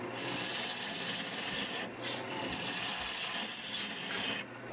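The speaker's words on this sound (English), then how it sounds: "now I can start my favourite process of hollowing the dish out" An Ellsworth bowl gouge hollows a mulberry candy dish on a wood lathe, giving a loud, continuous rasping scrape that breaks off briefly twice between cuts, with no talk.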